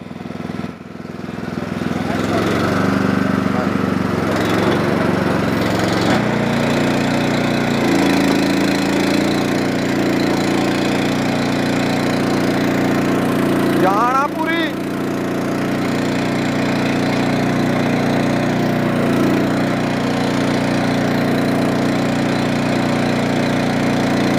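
A small Swaraj tractor with a single clutch and PTO runs steadily nearby, a continuous low mid-pitched engine drone throughout, with people talking over it.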